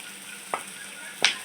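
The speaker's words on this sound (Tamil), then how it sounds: "வெங்காயம் நல்லா வதங்கி வந்திருக்கு." Onions sauté in oil with a soft, steady sizzle, broken by two brief scraping stirs of a utensil in the pan.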